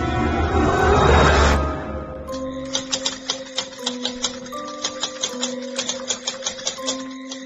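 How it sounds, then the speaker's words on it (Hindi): After a brief rushing whoosh, typewriter keys clack in a steady run of sharp taps, close and clear, with no voices. "टाइपराइटर की बटन दबने की आवाज सुनाई दे रही थी।"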